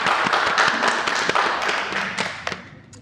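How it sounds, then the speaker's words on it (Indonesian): Crowd applause welcoming guests onto a podcast set, a dense patter of many hands clapping at close range that holds steady and then thins toward the end. "Beri tepuk tangannya dong"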